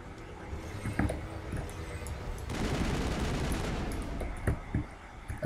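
Gunfire from the Mass Effect video game, a sustained fusillade of rapid shots with scattered single cracks, fairly steady and moderately loud throughout.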